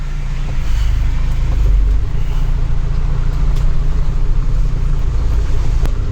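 A Mahindra Thar 4x4 driving on the road, heard from inside as a loud, steady low engine and road rumble that continues throughout without any talking.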